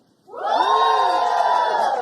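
An awards-ceremony audience for a charity bursts into loud cheering after a brief quiet, a sustained swell of shouts and whoops that holds steady.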